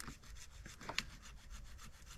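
Rhythmic back-and-forth sawing strokes in a snowy outdoor setting, steady and fairly quick, faint and close, with one sharper click partway through.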